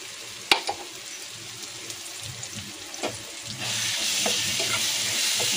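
Ground green chilli, garlic and ginger go into a hot pan, starting with a sharp clatter, then a few knocks, before a loud, even sizzle takes over and holds.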